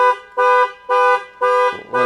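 A car safety sensor system on a US-imported Jeep crossover beeps four times at an even rhythm, loud and close, followed by a lower buzzy tone starting at the end.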